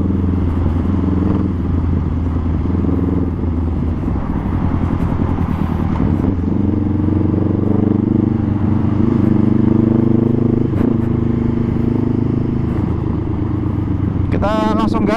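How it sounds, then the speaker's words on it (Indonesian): A 2020 Honda Rebel 500 cruiser with a custom exhaust rumbles steadily throughout at close range, a deep continuous engine drone with shifting pitch, while a rider talks over it. "Soalnya knalpotnya juga asik. Jadi nggak benar-benar silent."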